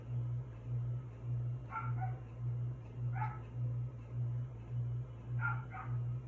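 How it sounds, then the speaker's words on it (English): A dog barks outdoors in three short bursts of a couple of barks each, moderately distant, over a steady low mechanical hum. "I apologize about my dog barking outside."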